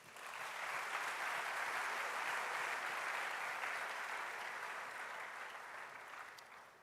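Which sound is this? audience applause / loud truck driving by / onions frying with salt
audience applause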